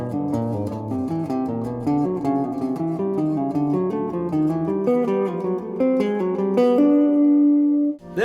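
A chromatic enclosure line is played over triads on an instrument, busy stepwise notes weaving around the chord tones before settling on a long held note, clear and close.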